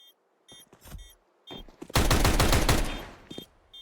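Weapons fire in a Counter-Strike match, including a Tech 9: a few scattered single shots, then a fast loud burst of rapid automatic fire, then a final lone shot.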